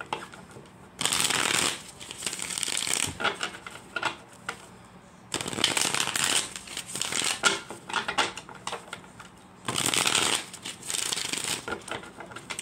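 A tarot deck riffle-shuffled in three crisp, close bursts separated by brief pauses of softer handling noise.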